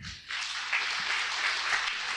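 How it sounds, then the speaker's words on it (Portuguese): A church congregation applauds loudly, the clapping starting abruptly after a brief quiet moment and continuing as a dense, even wash of many hands, with a faint voice at the very start. "Aplauda bem forte ao Senhor."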